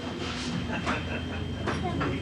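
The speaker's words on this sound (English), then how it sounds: "That train." A train passes at a moderate distance, its steady rumble and rail clatter going on underneath voices talking nearby.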